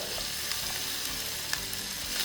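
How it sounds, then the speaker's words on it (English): Okra sizzles steadily in hot oil in a pan while cooking a potato and okra curry, a constant close frying hiss with faint pops and no talking. "Now you can add in the okra."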